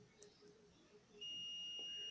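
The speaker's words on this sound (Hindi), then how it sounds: "दे रहा है ना बीप।" A multimeter gives a continuity beep while testing a capacitor on a mobile phone circuit board, one steady tone that starts partway through and holds to the end over quiet background.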